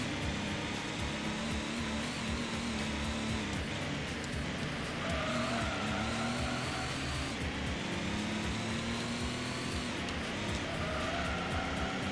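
Toyota Starlet racing in Gran Turismo 1, its engine droning steadily and revving through gear changes while tires squeal intermittently through corners, continuous and close without talk.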